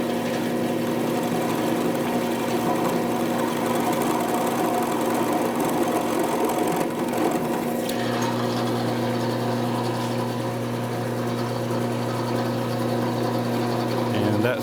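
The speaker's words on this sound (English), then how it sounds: "I've just got a little countersink in here, and I'm going to countersink the top of that." A countersink cuts the top of a hole in a machined arbor for a Syracuse spindle sander, a steady mechanical machine drone with a tonal hum that shifts partway through, while someone talks.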